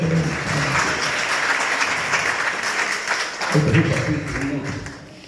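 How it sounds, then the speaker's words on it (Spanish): A church congregation applauds during a sermon by preacher Gregorio De Gregorio in the Q'anjob'al language, loud sustained clapping that swells briefly near the end before tapering off. "con un aplauso para el comando"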